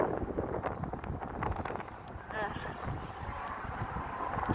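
Strong gusts buffeting a microphone on a very windy day, rough low rumbling and crackling wind noise throughout, with faint voices in the background.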